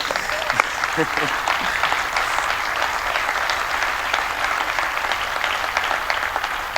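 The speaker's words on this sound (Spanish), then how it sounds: "le tengo que corresponder con ese aplauso que ha pedido para mí" A hall audience at an extraordinary assembly meeting breaks into steady, continuous applause, many hands clapping at an even level for several seconds, with faint voices mixed underneath.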